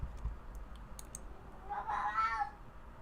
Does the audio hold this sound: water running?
no